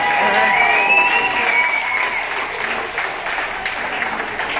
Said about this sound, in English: So another round of applause for performing with possibly the worst hangover he's ever had.